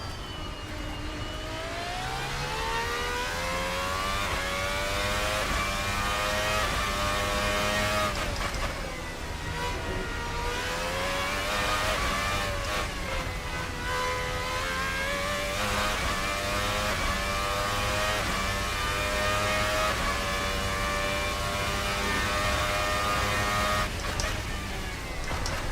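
A Formula Hybrid race car in the Race Sim Studio racing sim runs near full throttle, a loud, continuous high-pitched engine whine that climbs and drops with each gear change and never lets up.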